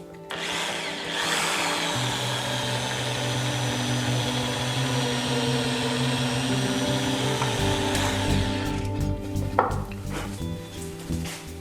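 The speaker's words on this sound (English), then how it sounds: "I need to drill the hole first." A small drill bores a 3mm hole into a guitar's side for luminescent side dots, whirring steadily near the listener for several seconds before it winds down and stops.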